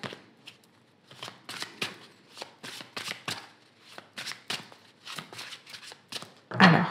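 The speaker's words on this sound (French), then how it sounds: "je vais faire une coupe et puis je vais prendre 3 cartes" A deck of tarot cards is shuffled and cut by hand close up, with a rapid series of crisp riffling flutters and slaps in irregular bursts, ending on a louder shuffle.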